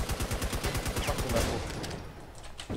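Rapid bursts of gunfire from the Infestation The NewZ video game rattle in a fast steady rhythm for about a second and a half, then fade to quieter scattered shots, with faint speech in the background.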